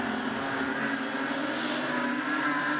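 Super street sedans pulling away at a race restart at Rockhampton Speedway, a dense, steady roar of several engines blending together at constant loudness throughout.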